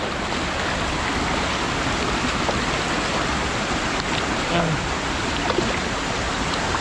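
Steady, broadband rushing water flows from a hose at a broken water line in the countryside, running continuously and loudly throughout, with faint voices barely surfacing underneath.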